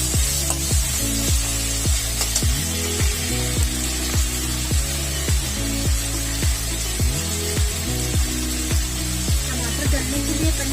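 Peanuts roasting in a pan for South Indian masala dosa filling, a steady sizzle under a regular rhythmic clatter of stirring against the pan, close and continuous.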